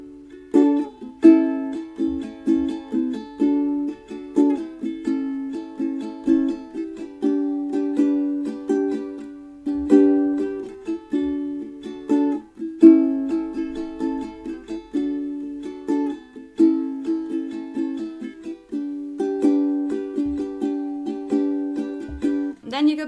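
A guitar strums a song at a slow practice tempo, with steady repeated chord strokes played up close and without any voice.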